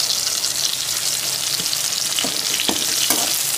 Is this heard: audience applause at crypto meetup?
no